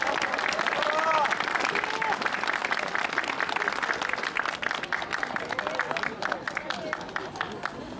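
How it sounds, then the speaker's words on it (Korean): Audience applause at the opening ceremony of a Gyeonggi-do tennis association tournament, a dense, steady clapping that fills the room for the full length, with a few voices calling out among the crowd. "박수"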